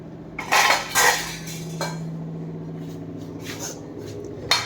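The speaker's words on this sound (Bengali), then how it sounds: "ঢাকনাটা বেশ দিই।" A metal lid is set onto a cooking pot in a home kitchen, with a couple of sharp clanks followed by quieter clinks and a final knock, heard alone against a low steady hum.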